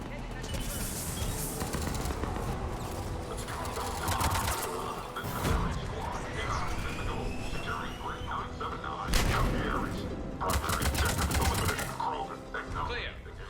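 Enemy gunfire in the Mass Effect Legendary Edition battle against Cerberus, rapid rattling bursts and sharp shots repeating at moderate distance over a dense mix of combat noise, with occasional voices.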